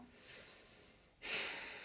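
One person takes a deep breath. A soft, airy inhale is followed by a louder, rushing exhale in a quiet room.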